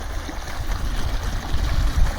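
Water gushes from an irrigation pipe into a groundnut field in a steady, loud rush with a low churning rumble that never lets up.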